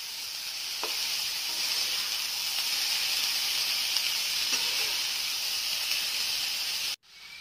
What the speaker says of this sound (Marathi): तुरी पावटे छान हलवून घ्यायचे।